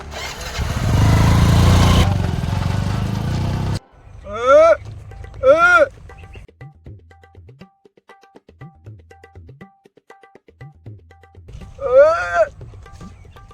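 A motorcycle engine roars loudly for a few seconds, then cuts off; after that come rising and falling tonal whoops and brief sounds, with voices in between.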